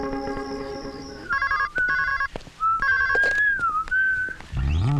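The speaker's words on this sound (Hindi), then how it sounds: "आनंद को फोन कर लेता हूँ" A telephone rings for an incoming call, a bright electronic ringtone made of short repeated tone bursts and a wavering melodic line, fairly loud and with no voices.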